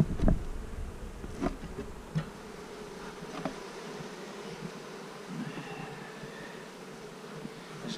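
Bees hum steadily from an open, weak hive colony in an outdoor beeyard, a thin continuous drone with a few brief knocks and thumps near the start, no voices.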